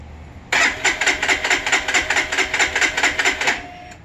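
Fuel-injected Lifan KPR 200 motorcycle, freshly assembled and bone dry of fuel, cranks steadily for about three seconds with a rapid rhythmic chug from the starter, never catching, then stops abruptly.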